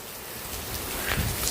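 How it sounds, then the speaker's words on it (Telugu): Heavy rain falls in a dense, continuous hiss that swells slightly louder toward the end, with no voices over it. "వర్షం మాత్రం మామూలుగా కురవట్లేదు, పెద్ద వర్షమే"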